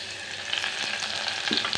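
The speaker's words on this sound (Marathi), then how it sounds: "कांदा टाकून घेते आणि त्याच्यासोबतच एक टोमॅटो" Onion and tomato fry in a pan with a dense, close sizzle, and occasional stirring scrapes sound over the short stretch, with no speech.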